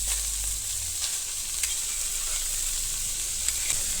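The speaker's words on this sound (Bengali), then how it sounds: "এরপরে দিয়ে দেবো মাটন কিমা এরপরে আলুগুলো দিয়ে দেবো" Mutton mince and potatoes sizzling steadily in a hot pan for a stuffed pointed gourd dish, a close, even frying hiss with faint stirring scrapes and no talk.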